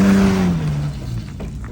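A car engine revs during an off-road mud test of vehicles such as a Toyota Prado, Niva and Land Cruiser 80. It is a loud, close drone whose pitch sinks steadily over under two seconds, then gives way to rougher rumble.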